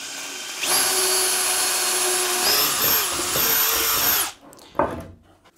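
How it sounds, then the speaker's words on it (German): A drill bores a pilot hole into a wooden tabletop, whining loud and close for about three and a half seconds with a brief dip in pitch midway. It then cuts off, followed by a short knock. "Ich bohre mir erstmal das Loch vor."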